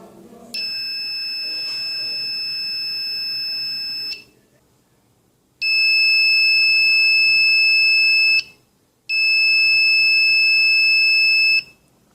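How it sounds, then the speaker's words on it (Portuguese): A digital multimeter sounds its continuity-test beep: three sustained high electronic tones, the first about three and a half seconds long and the next two slightly shorter, separated by brief silences. "Quando unidas as pontas de prova, o multímetro emite um bip sonoro."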